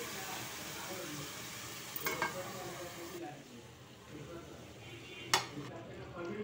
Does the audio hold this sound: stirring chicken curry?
yes